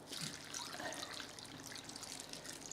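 Water is poured into a cooking pot for chicken stovies, a steady, quiet trickle and splash that runs continuously for a few seconds with no voices.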